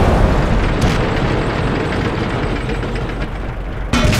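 An enemy shell slams into the track of a KV-2 tank in World of Tanks, a loud, sustained booming roar with a sharp crack right at the end.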